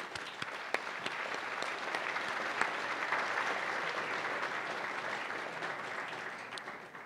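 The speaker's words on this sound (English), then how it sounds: "Please join me in a round of applause for all of them." An audience claps steadily, a dense patter of many hands that holds evenly throughout and thins slightly toward the end.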